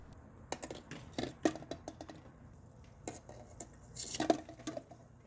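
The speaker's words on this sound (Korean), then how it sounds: "도구나 숟가락을 사용해 계란을 넣어주시고요" Eggs set one by one into an electric kettle with a spoon, with quiet scattered clicks, taps and small clatters close by in a hushed kitchen, no talking.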